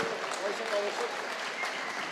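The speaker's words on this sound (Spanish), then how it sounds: "Yo lo único que les voy a pedir es un aplauso muy fuerte para Mangas y para Jorge" Applause from a live podcast audience at an event about Real Oviedo, a steady broadband wash of many hands clapping, fairly distant and even, with a voice faintly audible underneath.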